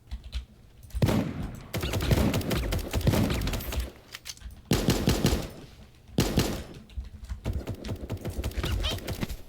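Gunfire in the cartoon battle-royale video game Super Animal Royale: rapid bursts of rattling shots in three clusters separated by short quiet gaps, loud and close.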